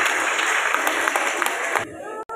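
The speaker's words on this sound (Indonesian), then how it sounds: "Mari sekali lagi kita berikan tepuk tangan" Church congregation applauding during an anniversary worship service, dense steady clapping that fills the room, then cutting off abruptly near the end.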